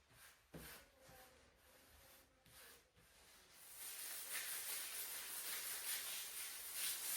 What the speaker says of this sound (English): Now it's time to glue and smooth the glued surface.